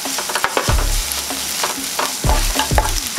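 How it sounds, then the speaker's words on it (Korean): Green onion and bacon stir-frying in oil over low heat in a Korean home kitchen, a steady close sizzle broken by repeated scraping and stirring strokes of a utensil against the pan, with no talking. "약한 불로 파를 볶아주세요"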